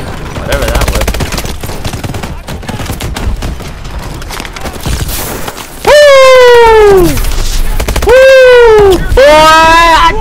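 Gunfire in the Call of Duty video game, loud rapid bursts through the first half under game noise, followed by rising and falling siren-like tones and a loud, close, saturated mix.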